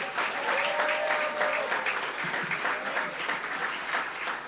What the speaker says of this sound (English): She does deserve another round of applause.